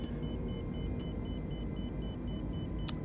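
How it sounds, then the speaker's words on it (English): Warning beeps in Microsoft Flight Simulator sound as a steady, evenly spaced tone pulsing over a loud, constant cockpit engine rumble, with a few brief sharper chirps mixed in. "That beeping, don't worry about it."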